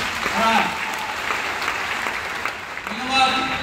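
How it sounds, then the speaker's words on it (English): Large arena crowd at a company anniversary event clapping steadily for the speakers, a dense wash of applause with voices heard faintly underneath. "Can you clap your hands for the speakers?"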